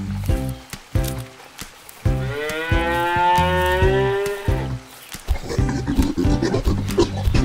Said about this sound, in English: The cows and the calf are grazing.